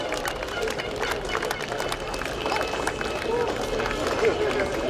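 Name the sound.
crowd applause at town parade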